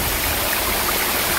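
A small waterfall and stream pour steadily with a continuous broadband rush of flowing water, close and even, with no voices.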